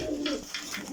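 Pigeons cooing in a breeder's loft in Jhelum, a few soft rolling coos in quick succession, close and fairly quiet.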